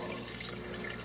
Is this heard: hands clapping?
no